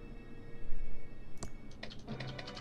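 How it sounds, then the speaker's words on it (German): Keys tap on a computer keyboard in the game Thimbleweed Park, a quick burst of clicks after a single sharp tap, close and clear with no voices. "Sie tippt da irgendwas ein"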